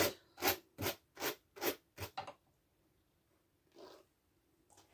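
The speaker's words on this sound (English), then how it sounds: "Now I like to take my cat brush and just get the loose stuff" A cat brush rakes loose fibre off the swift of a drum carder in about seven quick, evenly spaced scratchy strokes close by. A pause follows, then one softer stroke.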